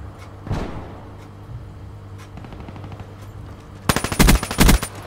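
A rapid-fire weapon in a video game, a few scattered shots followed by a loud, fast burst of automatic fire near the end.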